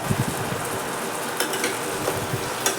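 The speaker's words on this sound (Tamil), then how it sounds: "இந்த நேரத்தில் ஒரு நாலு பச்சை மிளகாய் போட்டுக்கிறேன்" Four green chillies sizzle in hot oil in a pan, a close, bright crackling hiss with small pops and occasional stirring scrapes, continuous for a few seconds.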